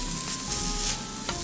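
Beef fillet cubes sizzle in a dry patterned pan with no oil or salt, a steady close frying hiss with a few brighter pops and no talk.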